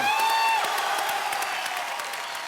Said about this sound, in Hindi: जोरदार तालियों से बताएं